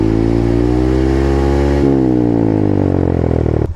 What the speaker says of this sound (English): The general idea is revving your bike and getting it up to enough RPMs to where you have power